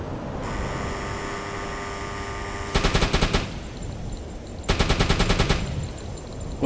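A U-boat's deck gun fires in the submarine game UBOAT, two quick rattling bursts of repeated shots that stand out over a steady engine drone with faint tonal hums.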